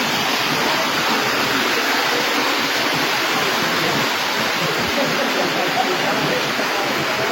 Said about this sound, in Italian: venire a vedere insieme a un gruppo di persone questa bellissima cascata